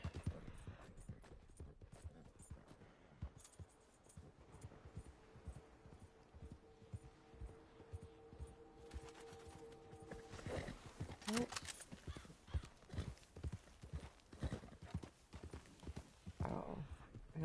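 Hooves clip-clopping in an irregular rhythm at moderate distance, with a brief whinny-like tone and faint background noise.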